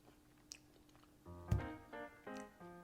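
Chewing on pesto chicken pasta with pine nuts, close and quiet, a series of soft bites and wet mouth sounds with a sharper crunch midway, no talk.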